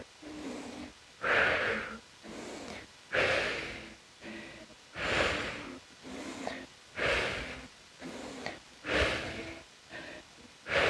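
Rhythmic, heavy breathing during a core Pilates workout with a dumbbell, about five forceful breathy exhales at even intervals, each followed by a softer intake, close and with no talk.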